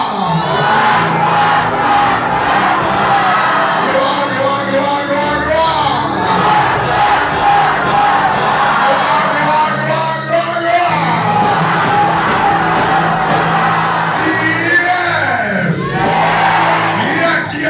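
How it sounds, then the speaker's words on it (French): A church congregation shouts in praise, a loud, dense crowd of voices yelling together over music without pause, with repeated rising cries throughout. "Crier gloire, gloire, gloire, gloire,"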